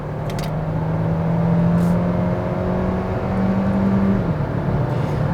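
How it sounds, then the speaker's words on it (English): A 2020 Kia Seltos small SUV driven in sport mode, its engine a steady, loud in-cabin hum with a droning tone that rises gradually as it accelerates. "Let's put the car into sports and drive."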